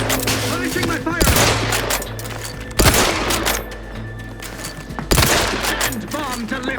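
Heavy gunfire in The Outer Worlds 2, with dense automatic bursts and several loud booming shots over a rumbling, busy battle, loud and continuous.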